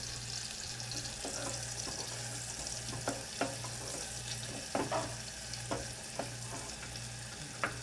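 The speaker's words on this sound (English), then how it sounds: "We're going to saute the onions, see, sizzling" Onions saute in hot oil with a steady, soft sizzle, punctuated by occasional clicks and stirring taps from a utensil in the pan, heard close and alone.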